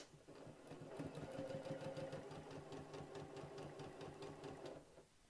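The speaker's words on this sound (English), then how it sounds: "And now I'm just going to sew right on that line." A sewing machine stitches a heart quilt block in one continuous run of fast, even rhythmic pulses. It is heard up close and alone, then stops just before the end.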